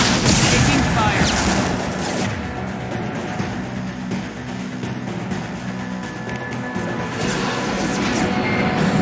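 Bursts of gunfire in the video game Mass Effect 2, dense crackling volleys and booms, loudest at the start and end, with a voice speaking over the combat.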